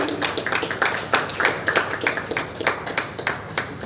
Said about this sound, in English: So a big round of applause to distinguished Toastmaster Sushi